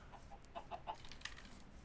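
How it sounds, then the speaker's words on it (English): A few soft, brief clucks from chickens in a video game, spaced irregularly over a low, quiet background hum. "Chickens, and I heard eggs dropping over there too."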